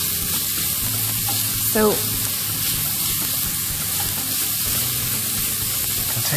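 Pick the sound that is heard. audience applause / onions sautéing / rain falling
onions sautéing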